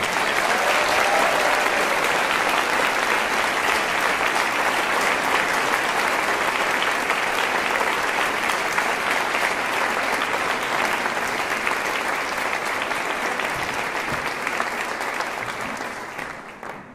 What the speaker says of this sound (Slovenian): še en velik aplavz, prosim